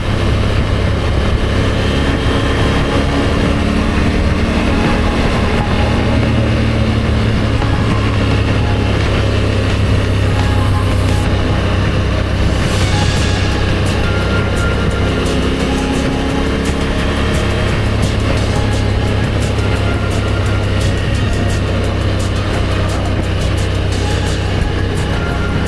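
A Honda Africa Twin adventure motorcycle rides on a highway near Cle Elum, its engine droning continuously under loud steady wind rush, with no talking.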